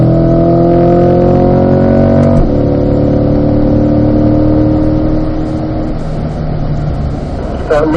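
Corvette on a Spring Mountain race track, loud engine revving hard through the gears and shifting from 4th to 5th, with a clear pitch drop at the shift followed by steady high-rpm pull.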